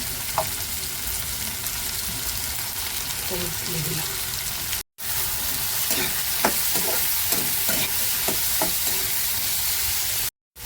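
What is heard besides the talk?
potatoes and onions frying and being stirred in a pan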